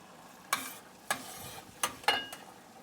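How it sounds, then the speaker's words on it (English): Stirring flour into boiling water and butter in a pot on the stove, a few soft scraping strokes spaced about half a second apart, close and quiet with no talking. "And then just mix that really well."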